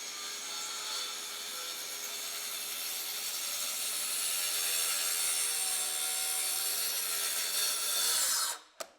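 A power saw cuts steadily through timber with a loud, continuous whine for about eight seconds, then stops abruptly and is followed by a couple of short knocks. No one speaks.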